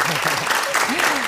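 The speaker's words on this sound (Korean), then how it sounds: "큰 박수로 맞아주십시오" A studio audience claps in dense, steady applause to welcome a guest onto a Korean television talk show. A host's voice can be heard speaking over the clapping.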